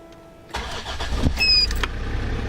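The TD5 diesel engine of a Land Rover Discovery 2, fitted with a new MAF sensor, cranks briefly and catches, settling into a low rumbling idle, close by, with a faint high whine.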